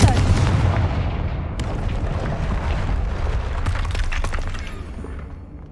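Confringo blasting spell in the video game Hogwarts Legacy: a loud, dense explosive rumble that sustains for several seconds with crackling debris, slowly fading at the end, with no talk over it.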